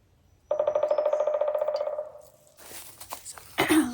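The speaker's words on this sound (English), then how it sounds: "Loud woodpecker." A woodpecker's rapid drumming rattles loudly for about a second and a half on a forested mountain slope along the Mountains-to-Sea Trail, then fades, followed by rustling and crunching noises nearby.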